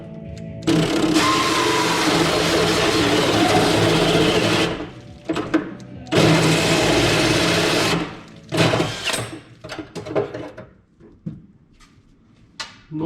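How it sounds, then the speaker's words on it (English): A hole saw cuts a 3-inch hole in a Nissan 240SX car panel during a turbo install, loud grinding bursts of several seconds each separated by short pauses, then shorter choppy cuts toward the end. "then start using the hole saw."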